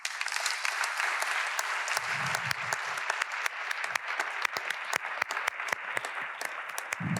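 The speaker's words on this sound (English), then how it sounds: "A round of applause." Audience applause following a talk at a symposium, a dense run of clapping with distinct sharp hand claps standing out, continuing steadily, with a low voice briefly murmuring underneath.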